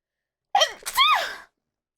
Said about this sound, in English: I think I'm about to sneeze though.